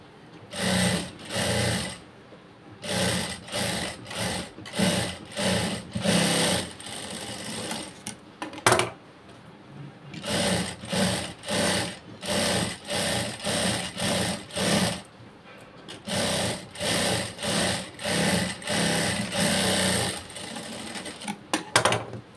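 A sewing machine stitches blouse seams in a rapid, whirring clatter, running in repeated bursts of a second or two with brief pauses between, close and clear.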